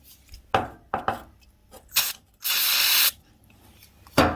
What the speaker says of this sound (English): then we'll give it a bit of a spray with some brake cleaner